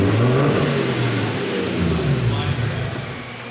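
A Nissan S13 fitted with a 1JZ-GTE engine roars loud and close while held at high revs on a dyno in fifth gear, one sustained run that eases slightly toward the end.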